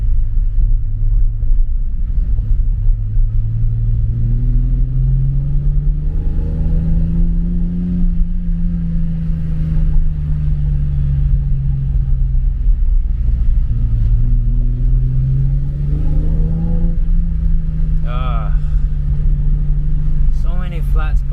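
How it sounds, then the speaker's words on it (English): A BMW E34 M5's straight-six engine revs in long rising and falling sweeps, loud and close, a smooth wailing drone with a rough idle suggesting flat spots, and someone talks briefly over it. "The wail of the straight six."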